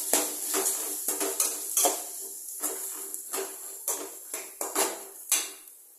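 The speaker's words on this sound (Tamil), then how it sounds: "இப்போ ஆனியனும் பச்சை மிளகா போட்டுக்கலாம். நல்லா இது வதங்கணும்." Onions and green chillies sauté in hot oil for egg rice, with a run of sharp, close spatula clanks and scrapes against the pan over a faint sizzle, with no talk.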